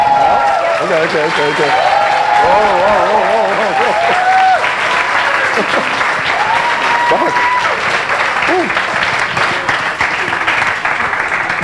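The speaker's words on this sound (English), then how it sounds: "give a big, huge round of applause to Patrick Grove!" A large audience at a Startup Grind event gives Patrick Grove a big welcoming ovation, loud and dense clapping that fills the room throughout, with a voice talking over it and some cheering mixed in.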